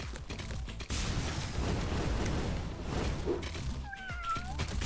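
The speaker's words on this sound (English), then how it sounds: "I don't know who's meowing." Cat meowing in the Wild Island video game, several drawn-out mewing calls over a dense, loud, noisy game background, with a clearer rising-then-falling meow near the end.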